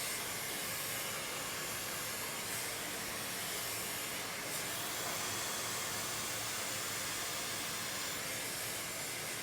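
A hair dryer with a nozzle blows steadily during a brush blowout, a constant close broadband whoosh with no breaks, loud and unaccompanied by talk.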